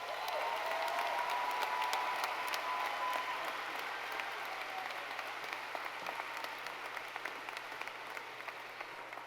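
Sustained applause from a large audience at a high school graduation commencement, a dense steady wash of many hands clapping that holds throughout and tapers slightly toward the end.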